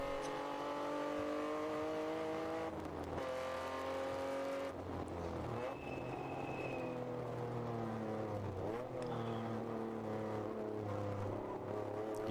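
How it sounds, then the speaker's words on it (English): Race car in a ChampCar endurance race at Virginia International Raceway, engine note rising and falling through gear changes as it takes the Oak Tree corner on a half wet track, with a brief thin tire squeal in the middle. "You hear a little bit of tire protest there as he goes through Oak Tree."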